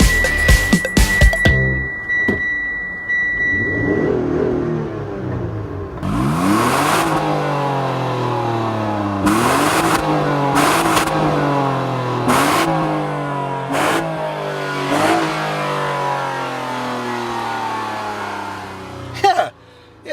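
A 2014 Mitsubishi Outlander GT's V6 revs hard while driving off-road over muddy, rocky ground, climbing repeatedly in pitch with sharp gear shifts between pulls, loud and close, with no talk.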